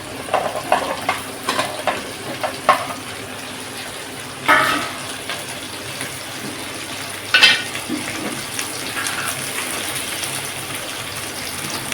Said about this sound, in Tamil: இதையும் போட்டு எண்ணெயில் நல்லா வதக்கிக்குவோம்.